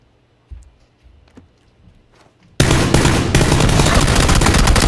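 Loud, dense automatic gunfire erupts suddenly in a video game shootout after a few quiet seconds of faint thumps and movement, continuing as a sustained rattling barrage.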